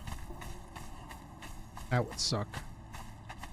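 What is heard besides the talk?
horse hooves clip-clopping in video game Conan Exiles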